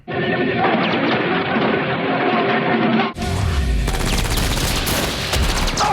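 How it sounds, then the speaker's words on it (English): Rapid bursts of gunfire from a scene in the 1995 Mortal Kombat film workprint crackle through a busy, cinematic mix, shifting abruptly into a louder, fuller barrage of shots and impacts. "the sound effects of the gun"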